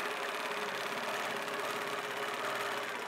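Steady mechanical hum of a Grace Qnique longarm quilting machine stitching curves, a continuous close motor drone with a fine rapid needle pulse, with no talk.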